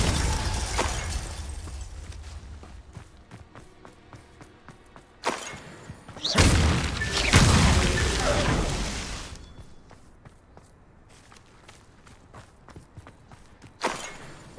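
Confringo fire spell cast in the Hogwarts Legacy video game, heard as a loud whooshing burst with crackling debris under game music and sharp impacts, repeated a few times across the scene.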